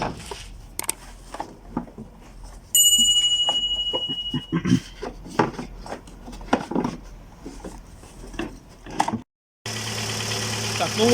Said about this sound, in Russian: Так, ну вот, запустили мотор.